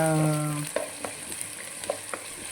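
Onion and curry leaves fry in a pan for Telangana-style dal curry, giving a steady close sizzle with a few soft stirring clinks.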